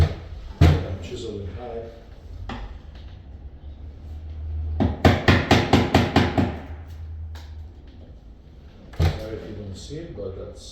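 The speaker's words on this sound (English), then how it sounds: "I'm chiseling high." Hammer and chisel cutting a door mortise for a Simplex 7000 deadbolt: a few isolated sharp strikes, then a quick burst of about seven rapid taps, then another single strike, close by over a low hum.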